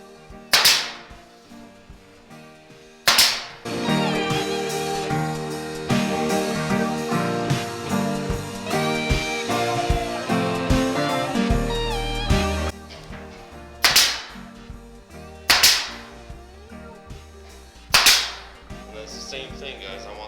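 Finish nail gun with 1 1/4-inch nails shooting door casing onto the jamb while installing double French doors; sharp, loud single cracks land a few seconds apart, with tonal background music between them.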